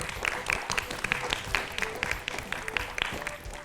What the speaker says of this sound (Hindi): तो इसी बात पर हो जाए तालियां।